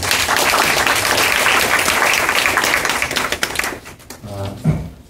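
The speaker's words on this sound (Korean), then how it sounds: "훌륭한 토론을 해주신 김도겸 위원님께 다시 한번 큰 박수 부탁드리겠습니다." Audience applause at a youth voting-rights debate, dense clapping from a room full of people that thins out and fades over a few seconds before a voice begins.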